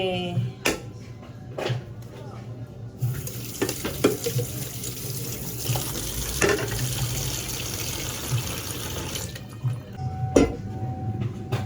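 Tap water runs steadily into a sink while food is washed under it for a banana-leaf-wrapped paksiw, with clattering handling noises and occasional knocks over the continuous flow.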